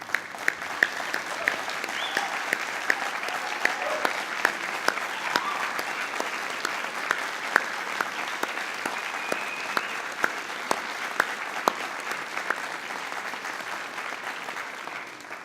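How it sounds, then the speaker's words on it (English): A graduation ceremony audience standing to applaud, a dense, steady wash of many hands clapping that carries on unbroken and moderately loud throughout, with scattered sharper claps on top. "can I ask you to be upstanding and applaud your audience"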